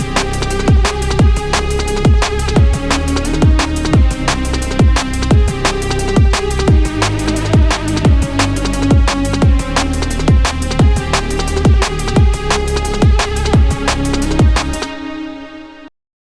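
A jump-up drum and bass track pairs a reese bass and vibrato lead synth with a simple sampled drum loop, loud, steady and fast with punchy kicks and snares, before cutting off abruptly near the end.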